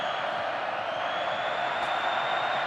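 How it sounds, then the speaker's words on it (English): A football crowd at a university varsity men's match cheers in a steady, distant roar that stays level the whole time, with no individual voices standing out. "As all the fans are cheering him as he takes it on."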